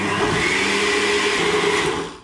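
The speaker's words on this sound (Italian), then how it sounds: "Mi raccomando, frullate per almeno 2-3 minuti" A kitchen blender whirs loudly and evenly as it purees a batter of soaked basmati rice for flour-free bread, then winds down at the very end.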